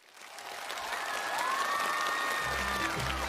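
A studio audience at a Chinese television show swells into applause and light cheering to welcome guests on stage, with a musical tone sounding over the clapping.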